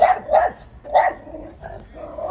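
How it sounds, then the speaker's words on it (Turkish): A dog barks sharply at close range, four or five loud barks in quick succession outdoors in a rose and clematis garden. "Zeytin diye bir köpek var burada. Zeytin adı bana havlıyor"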